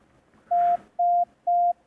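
Morse code sent as pure, steady beeping tones spells the letter S: three identical tones evenly spaced in a clean, uniform rhythm, with no voice over them.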